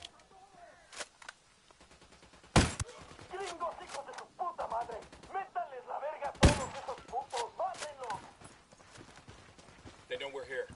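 Gunfire in the video game Ghost Recon Wildlands: two loud, sharp shots stand out, with fainter scattered shots between them. Horse hooves clop in the background and voices talk throughout.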